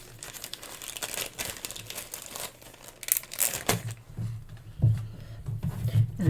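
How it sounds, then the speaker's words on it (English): Modified fondant is torn and pressed into a cake mold, producing a run of soft crinkling, tearing and sticky crackling noises. They grow denser and louder toward the end, close up with no talk. "Tear this piece off here."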